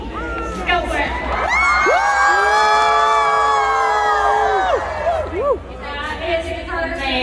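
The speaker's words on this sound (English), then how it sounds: "You guys are going to scream, ready?" Crowd of partygoers at a VidCon 2022 creator after-party screaming and cheering loudly and continuously for several seconds, shrill voices and whoops overlapping, then tapering into scattered shouts and chatter; a voice calls out briefly near the start.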